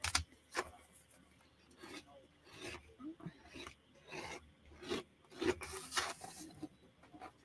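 Repeated rubbing strokes press craft material onto a surface while making summer bird and bee decor, a series of rasping scrapes in an uneven rhythm, close and fairly quiet.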